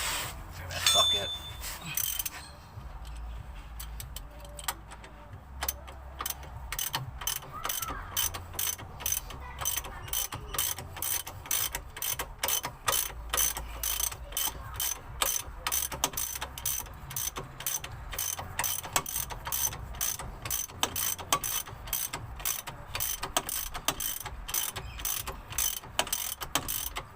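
Socket wrench ratcheting on bolts during a Ford Territory SX conversion: a long run of fast, even metallic clicks, close and steady, with brief pauses and some talk in the background.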